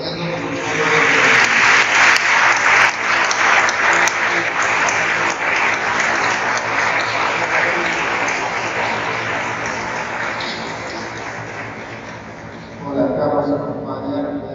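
A crowd at a Christmas Aguinaldos Mass applauds loudly and steadily for several seconds, the clapping slowly fading before a brief burst near the end.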